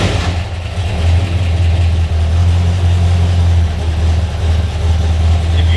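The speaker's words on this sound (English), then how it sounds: "It will actually run an idle and do exactly what it's supposed to do." A Mazda RX3 with a 13B rotary engine idles on its own after a cold start on a 3-degree morning, a steady, loud, lumpy low rumble without throttle blips.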